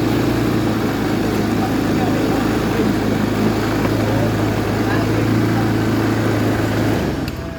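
A Honda Scoopy FI scooter with a fault that makes its idle run high starts up and runs at a steady, loud, close idle hum for about seven seconds, then cuts off abruptly near the end.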